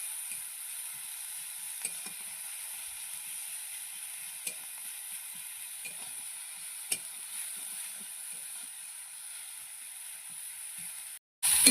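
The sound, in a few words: onion, chili and tomato frying in oil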